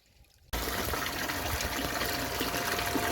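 Water suddenly starts gushing inside a DIY vapour blast cabinet during a wash-down, switching on after a quiet moment and then rushing and splashing steadily and loudly to the end.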